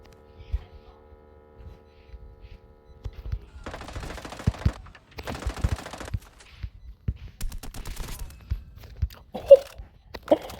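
Weapon fire in a multiplayer shooter video game comes as short sharp bursts and single shots, with two sustained bursts of rapid automatic fire separated by gaps, a faint hum and other game noises in between.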